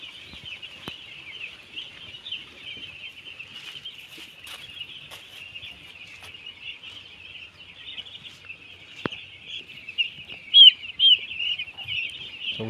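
Village chickens pecking at grain cluck intermittently against a steady high insect-like drone, and the clucks grow louder and closer near the end.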